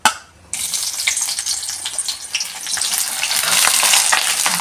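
Onions drop into hot oil already fragrant with cardamom, cinnamon, cloves and bay leaf, and a loud, close sizzle starts suddenly after a brief quiet. It swells steadily louder as the frying continues.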